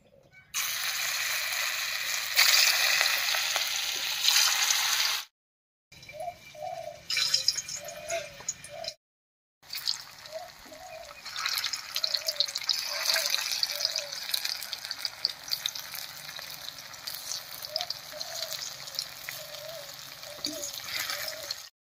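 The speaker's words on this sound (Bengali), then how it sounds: "কড়াইয়ে সরষের তেল দিয়ে দিয়েছি, গরম হয়ে গেছে, এবারে ভেজে নিচ্ছি" Bitter gourd pakoras fry in hot mustard oil in a kadai, a continuous bright sizzle with crackles broken by short gaps, while a bird coos repeatedly in the background.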